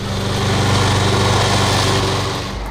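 Steady, loud engine drone from a Husqvarna riding mower, a mid-mount deck lawn tractor mowing grass, running continuously at an even pitch before easing slightly at the end.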